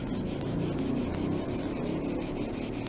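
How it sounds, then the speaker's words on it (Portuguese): Hand sanding of the clear coat on a repainted car panel, a steady close abrasive rubbing with a soft, even rhythm, continuous for the whole stretch with no voices. "E continuo lixando."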